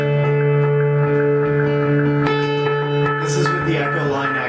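A Joshua Tree Echo guitar pedal in EP3 mode holds infinite non-oscillating echo repeats, a dense, steady wash of sustained harmonic tones with a few softer plucked notes laid over it.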